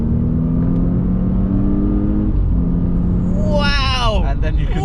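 A 2015 Audi S8 engine drones at a steady pitch, dips, then climbs in a rising rev as it accelerates hard, heard from inside the car with voice-like sounds mixed over the engine.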